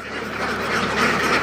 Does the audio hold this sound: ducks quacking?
yes